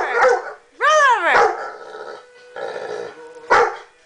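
A pet dog barks and growls on command in a home, giving several loud, close yips and barks with throaty growling between them and no talk over them.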